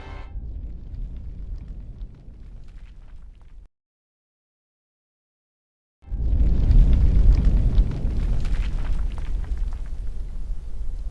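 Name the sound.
explosion sound effect in anime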